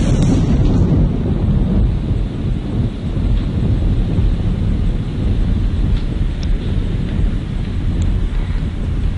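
Thunder rumbles in the video game Minecraft during a storm, a dense low roar with rain-like hiss that fills the whole stretch at steady loudness and never lets up.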